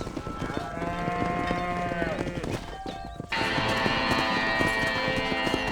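Cattle moo loudly and repeatedly from a herd on a ranch in the video game Red Dead Redemption, with a second burst of lowing layered over hooves and background game ambience.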